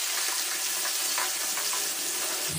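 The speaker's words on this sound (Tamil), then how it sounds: "இப்போ தக்காளியை நல்லா ஆயிலில் வதக்கிக்குவோம்." Steady, dense sizzling of tomatoes sautéing in hot oil for a fish curry masala, close and continuous, with faint stirring movements underneath.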